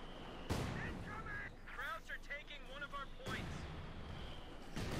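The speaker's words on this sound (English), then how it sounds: "Mortars there going after the enemy mortar." Mortar and artillery fire in Company of Heroes 2 during a Wehrmacht versus US Forces match: sharp booming blasts near the start and around the three-second mark, with whistling and layered battlefield noise in between, and a commentator talking over it.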